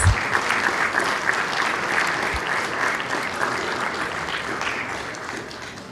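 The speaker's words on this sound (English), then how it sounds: "Let's give them a round of applause." Audience at a city council meeting applauding a barber shop's 65th anniversary, a full round of clapping that starts strong and slowly tapers in loudness, with a whistle-like tone briefly riding on top.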